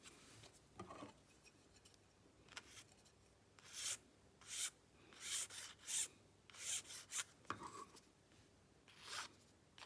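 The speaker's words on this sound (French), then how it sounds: "je vais pouvoir limer un petit peu cette partie-là pour être au mieux par rapport à mon tracé" Hand file rasping the edge of a flexible template to follow a drawn line, quiet close strokes in short separate bursts with pauses between them.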